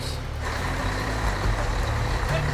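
A truck reverses with its beeper pulsing steadily over a loud, rumbling diesel engine idling close by, and faint hisses like air brakes are mixed in.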